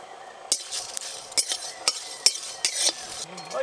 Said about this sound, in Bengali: শুকনো কড়াই ভালো করে ভেজে নেব